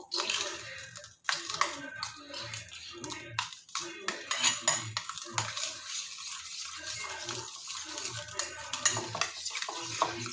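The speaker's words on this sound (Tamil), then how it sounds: "கடுகு இஞ்சி கருவேப்பிலை மட்டும் தாளித்து கொட்டினா போகிறோம்" Mustard seeds, ginger and curry leaves are tempered in a pan, with a metal spoon clattering and scraping repeatedly over a faint crackling sizzle close by.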